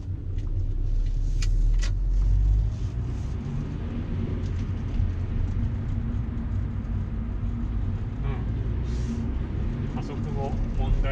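A Honda Prelude BB6 fitted with a Mugen damper kit, driving on the road as heard from inside the cabin: a steady low engine and road rumble throughout, with faint rattles from the interior.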